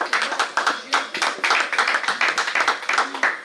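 A church congregation claps in quick, steady rhythm, close and lively, with no break.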